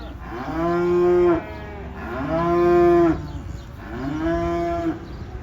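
Cattle from a herd of four- to five-year-old bred cows low three times in long, loud moos, each call rising and holding before cutting off, with short gaps between them and no talk.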